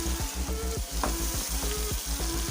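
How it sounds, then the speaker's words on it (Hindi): Chicken pieces stirred and frying in masala in a pot, a loud continuous sizzle with rhythmic scraping stir strokes, close and without any voices. "अच्छी तरह मिक्स कर ले चिकन को।"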